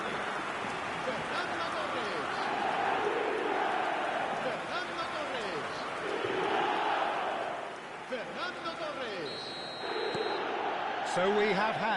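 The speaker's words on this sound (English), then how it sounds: "the crowd level has gone up a notch or 10" A stadium crowd in eFootball 2026 roars after a goal with a loud, sustained swelling cheer, while a commentator talks over it.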